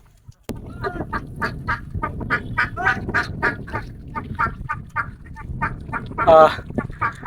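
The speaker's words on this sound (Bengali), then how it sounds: "আচ্ছা নাহিদ তো এখানে কি পরিমাণ হাঁস থাকতে পারে তোর একটু আইডিয়া বলতো দেখি" Many ducks quack steadily in a busy chorus, with overlapping calls close by and a louder honk near the end.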